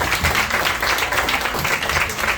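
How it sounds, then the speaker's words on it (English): Audience applause for a board president at a congressman's community coffee gathering with district residents: a steady, dense wash of clapping that holds at an even level for the whole stretch. "Give him a round of applause"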